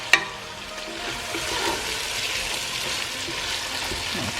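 Chunks of corned beef fry in hot oil with a steady, close sizzle and crackle that continues without pause, after a sharp clatter at the start.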